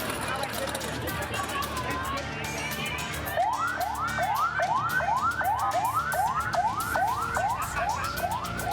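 An ambulance siren during a school evacuation in Ciamis, West Java, starts partway through as a fast, repeating rising yelp. It wails loudly and steadily over a busy background of voices and crowd noise.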